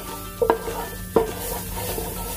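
Flour being stirred into a pan over low heat for a white sauce, with a soft steady sizzle and two distinct scraping strokes of a spoon against the pan, close and quiet.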